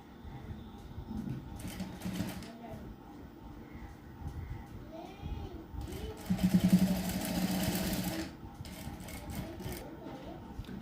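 A sewing machine stitches around the neckline of a blouse, its motor whirring in uneven bursts that swell louder for a couple of seconds near the middle, with faint background noise throughout.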